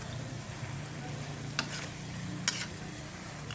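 Chicken feet adobo frying in a pan, a quiet continuous sizzle with two brief scraping strokes of a spoon stirring, close by.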